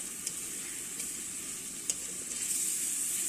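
Tomatoes softening in a pan of oil for a tinned tuna curry sizzle softly and steadily, with a few faint sharp pops and a slight swell toward the end.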